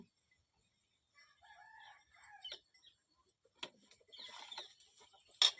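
Faint clucking from chickens at a village house comes in short bursts, followed by a brief, distant rooster-like call and a few sharp scratchy knocks, with long quiet stretches between.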